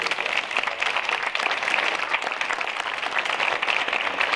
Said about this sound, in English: so if you could please give those folks a round of applause.